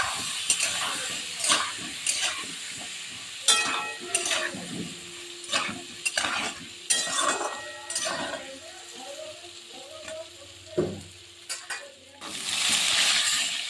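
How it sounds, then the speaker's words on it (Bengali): Potatoes frying with turmeric in a pan, soft sizzling broken by intermittent stirring scrapes and clinks, close and quiet, with brief voice-like tones in between. "ভালো মতো আলুটাকে ভেজে নেব লাল লাল করে"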